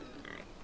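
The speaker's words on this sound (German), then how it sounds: "Das sind nur die Schweine." Pigs grunting in Assassin's Creed Odyssey, a short, quiet burst of low snorts from the farm animals, with no talking over it.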